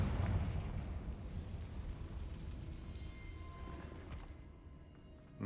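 Confringo fire spell exploding in the game Hogwarts Legacy, a loud rumbling blast that rolls and decays over several seconds, fading toward silence at the end.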